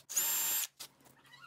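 A power drill drilling a hole in a scrap-wood board whines loudly and steadily for about half a second, then a brief second burst follows before quieter handling noises.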